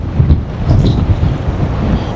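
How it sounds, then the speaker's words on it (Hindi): Strong wind blowing beside the Mustang river in Nepal, a loud continuous buffeting rush against the microphone with rumbling gusts, and no voices present. "और हवा जो है यहाँ बहुत ज़्यादा तेज़ है"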